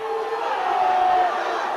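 Oldham fans in a rugby league crowd applaud and murmur after a good run, giving a broad, steady wash of crowd noise that swells slightly midway.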